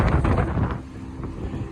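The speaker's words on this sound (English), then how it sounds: "Lots of wind happening" Gusty wind buffets the microphone outdoors in a restaurant parking lot, a loud, low rumbling rush that surges at first and then eases to a steadier blow.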